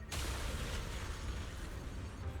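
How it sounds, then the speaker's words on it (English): Dense, roaring explosions from Zenless Zone Zero fill the whole stretch as one loud, sustained blast of rumbling booms and crackling bursts, with no talking over it. "Spontaneous combustion, discharges, explosions."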